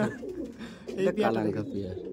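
Andhra breed pigeons, a male and female pair of tournament birds, coo softly in short low murmurs beneath nearby talking voices.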